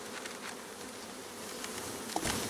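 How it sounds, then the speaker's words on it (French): Bees buzz steadily around flowering linden trees, a soft continuous drone with a brief louder pass near the end, and no voices. "Les abeilles ont l'air d'aller dessus."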